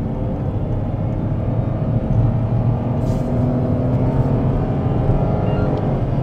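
A Nissan Magnite AMT accelerates at full throttle with slow automatic gear shifts, giving a steady, loud engine roar and road noise from inside the cabin that keeps going without a break.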